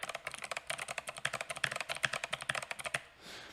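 Rapid, steady clacking of keys on an 8BitDo Retro mechanical keyboard, close and crisp, a dense run of keystrokes with no talking, ending in a brief soft rustle.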